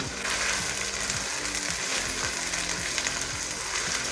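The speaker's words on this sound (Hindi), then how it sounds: "इन सारी चीज़ों को अच्छी तरह हमने मिक्स करना है।" Ginger-garlic paste, green chili and tomato get stirred in a hot pan, with a dense steady sizzle and repeated rhythmic scrapes of a spoon against the metal, close and loud.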